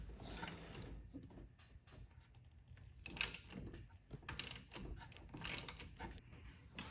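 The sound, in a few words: ratchet removing 13 mm steering shaft bolt on Mustang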